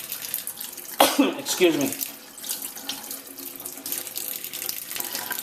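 A deveined shrimp is rinsed under a running kitchen tap, water splashing and gurgling continuously, briefly interrupted by a sneeze and a short spoken apology.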